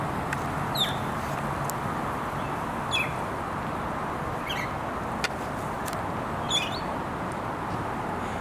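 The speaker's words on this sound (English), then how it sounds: "Although you can hear the traffic." Steady low road traffic rumble drones continuously near a tropical museum garden in San Juan, Puerto Rico, with a few short bird chirps standing out faintly above it.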